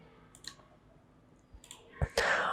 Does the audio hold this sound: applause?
no